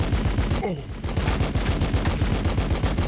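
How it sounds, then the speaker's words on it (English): Heavy bolter fire in the Warhammer 40K Battlesector video game, a rapid rhythmic stream of loud shots throughout with a brief dip and sweeping tone near the start, a voice briefly audible. "Let's just use the las cannon. Oh, the heavy bolter, I mean."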